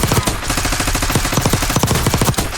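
Suppressed automatic gunfire in Black Ops 6, a steady rapid string of muffled shots continuing for a few seconds, loud and close with no pause.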